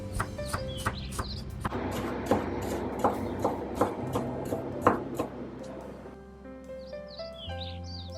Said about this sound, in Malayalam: പിന്നെ ഒരു 3-4 വെളുത്തുള്ളി നമുക്ക് കട്ട് ചെയ്തെടുക്കാം.